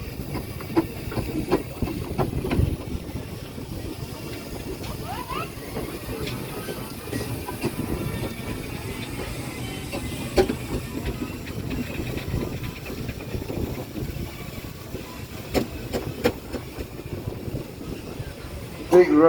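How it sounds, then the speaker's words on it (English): An 1897 steam road locomotive rumbles past at a steam rally at Duncombe Park, Helmsley, with low chuffing and hiss under an announcer's commentary. "That big burrow coming through now is Beaver. Built in 1897"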